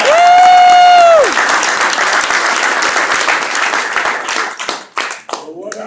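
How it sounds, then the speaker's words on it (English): Audience applause for congressman Dan Kildee of Flint as he enters a room, loud dense clapping that follows a sustained tone at the start, then thins and fades near the end. "a round of applause."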